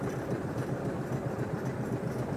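A steam car engine, warmed up, running low and quiet with a soft, even chugging rumble, close and steady.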